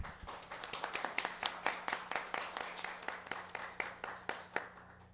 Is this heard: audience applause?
yes